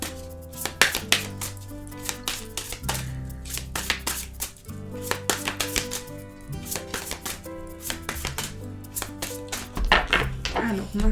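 A deck of angel oracle cards being shuffled and cut by hand: a close, rapid run of crisp papery flicks and taps in uneven bursts, ending in a denser riffle.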